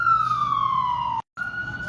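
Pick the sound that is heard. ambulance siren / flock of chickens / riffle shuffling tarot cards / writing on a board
ambulance siren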